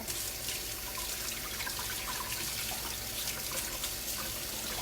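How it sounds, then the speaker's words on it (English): Hands are washed under a running tap at a sink after mixing homemade play dough, with a steady, loud rush of water spilling the whole time and faint splashing changes as the hands move. No one speaks. "I'm gonna wash my hands and then we'll mix the next color."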